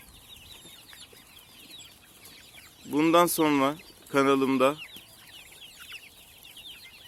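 Hens and young chicks on a small farm being raised organically, their faint clucking running steadily in the background while someone speaks briefly in the middle.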